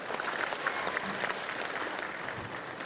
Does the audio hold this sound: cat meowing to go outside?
no